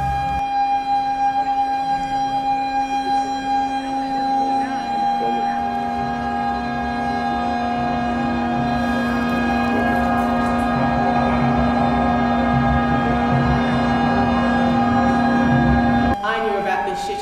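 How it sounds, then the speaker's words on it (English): A steady, droning warning siren wails continuously with sustained tones, loud and unbroken, shifting pitch briefly near the end. "I can still hear the emergency warning sirens."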